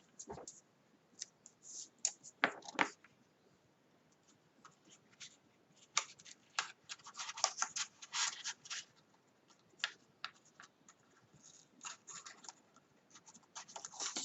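Scissors snip through paper in irregular bursts of crisp clicking cuts, close up, with quiet pauses between strokes.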